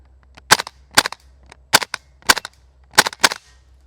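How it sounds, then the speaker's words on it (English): A KWA F90 airsoft rifle with a freshly adjusted hop-up fires about eight sharp, close snapping shots, spaced in loose singles and pairs against a quiet low hum. "Okay, hop up's been adjusted. Let's see if we can get some shots off."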